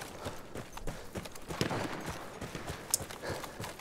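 Horse hooves in the video game Battlefield 1, a quick run of soft clip-clop thuds under dense battlefield noise, with a sharp crack near the end and faint voices mixed in.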